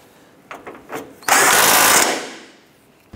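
A power tool tightens the front subframe bolts on a 2006-2013 Chevrolet Impala: a few light knocks, then one loud, close burst of about a second that tails off.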